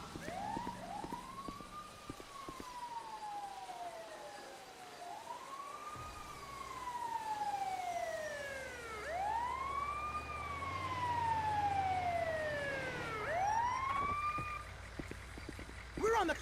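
An emergency vehicle siren in GTA V LSPDFR wails loudly on a code 3 response, its long rising and falling sweeps repeating over a low engine rumble.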